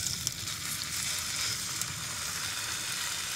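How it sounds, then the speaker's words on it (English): A Wagyu beef patty fries in hot oil in a pan, giving a steady, close crackling sizzle with scattered pops and no talking. "Throw some oil down in the pan. Wait for that pan to heat up, and then we'll take one of these glorious Wagyu beef patties and get it nice and cooked up."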